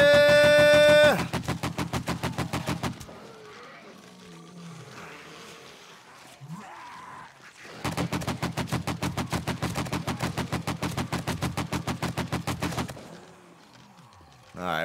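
An AK-47 fires in the zombie survival game 7 Days to Die. Two long, loud, rapid full-auto bursts are separated by a few seconds of quieter game ambience.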